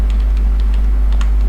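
Light keystrokes on a computer keyboard tap out a short, irregular run of soft clicks over a steady low electrical hum.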